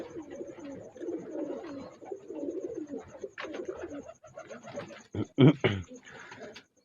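Red Sialkoti pigeons coo in low, rolling phrases that continue steadily nearby, with a sharper louder flutter of sound near the end.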